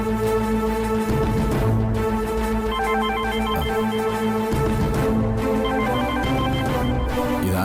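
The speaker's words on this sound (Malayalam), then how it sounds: "ഏതെങ്കിലും അത്യാവശ്യക്കാരാവും. സാർ ഫോൺ എടുക്ക്." A telephone bell rings loudly and continuously in repeated bursts, with short gaps between rings and a tonal backing bed underneath.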